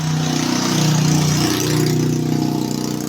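A faulty motorcycle idles at a village repair shop, a steady, close, fairly loud mid-pitched engine drone with a slight rise and fall in the revs and no talking.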